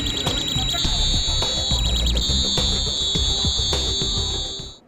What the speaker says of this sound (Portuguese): O alarme do aparelho soa.